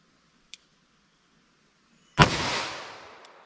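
A single sharp gunshot from a .357 Magnum revolver with a 4-inch barrel firing a light 158-grain LSWCHP load, cracking loudly and then trailing off in a reverberant decay, preceded by a faint tiny click.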